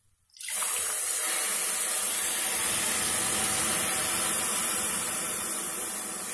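Water is poured into a pressure cooker for green peas pulao, two and a half glasses in all. The flow starts abruptly and runs as a loud, steady, close rush that fades slightly toward the end.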